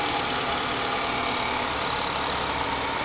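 A 2015 Chevrolet Malibu's 2.5-liter engine idles steadily at close range, a constant even hum with broadband hiss and no talk over it.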